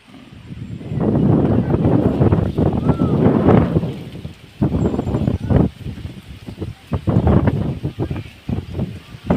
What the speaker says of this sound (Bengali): হাওয়া খুব জোরে হচ্ছে